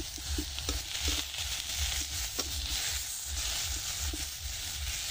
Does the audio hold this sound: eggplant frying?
yes